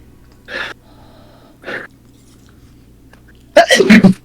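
One person sneezes forcefully at close range after two short preparatory inhales, ending in a loud, sharp burst indoors.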